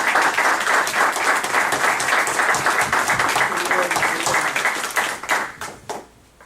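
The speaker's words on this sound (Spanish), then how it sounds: "Démosle un aplauso, por favor." Audience applause after speakers are introduced at a history and memory talk, a dense steady roar of clapping that thins and breaks into scattered claps before dying out.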